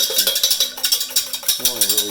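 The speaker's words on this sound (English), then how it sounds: "Let's come in here with the whisk." A whisk beats three eggs in a bowl with quick, regular metallic clinks and scraping strokes, a fast steady rhythm close up, while a voice talks briefly over it.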